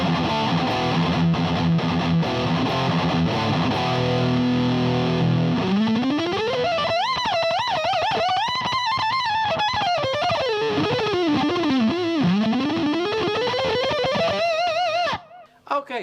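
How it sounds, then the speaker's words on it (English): Electric guitar through a Boss Turbo Distortion pedal, not at full gain: chugging chords, then a bending, singing lead line with sustained notes, loud and continuous, cutting off abruptly at the end. "then I have the Boss Turbo Distortion, which I don't have set on full blast at the moment"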